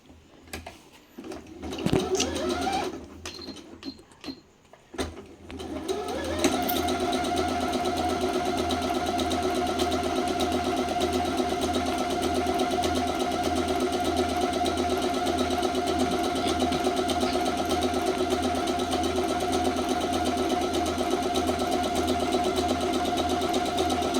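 A tabletop sewing machine runs steadily after a few brief handling knocks, settling into a constant, even mechanical whir with a fast stitching rhythm that carries on alone for about twenty seconds.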